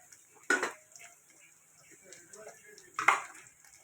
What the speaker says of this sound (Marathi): तर आता आपण हे वांगी टाकूया तेलामध्येच.